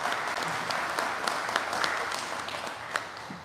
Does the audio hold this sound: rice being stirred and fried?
no